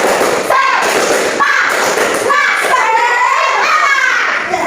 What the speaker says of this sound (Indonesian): Coba ayo tepuk semangatnya bareng-bareng. Tepuk semangat.